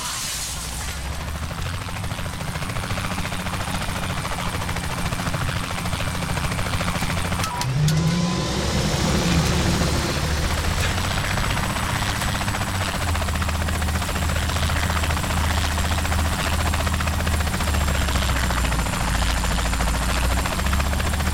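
A helicopter in the video game Saints Row The Third drones steadily with a loud, continuous rotor hum throughout, its pitch shifting briefly partway through as it moves.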